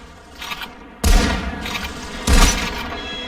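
Sako rifle shots in the VR game Population One, two loud close gunshot blasts about a second apart, each with a booming tail, over a faint background of game ambience.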